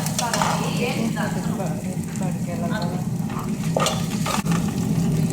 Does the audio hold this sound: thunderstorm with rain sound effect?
no